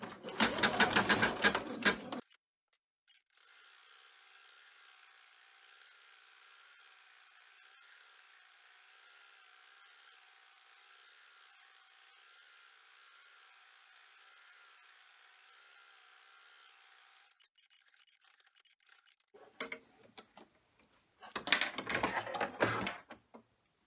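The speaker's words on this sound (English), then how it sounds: "we're going to be running the final triple bean stitching that's going to hold the two of these together" An embroidery machine runs a triple bean stitch on vinyl with a steady, even mechanical whir and rapid needle chatter for about fourteen seconds, framed by brief bursts of nearby handling noise before and after.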